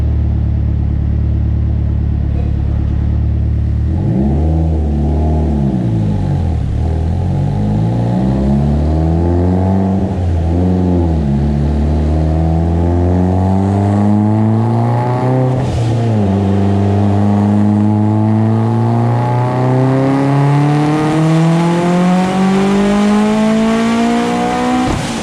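A turbocharged Ford engine with a sleeved block, stock-location turbo and Kelford B cams revs hard on a dyno, running rich; a loud, close, continuous roar climbs repeatedly in pitch through several rising sweeps with no talk.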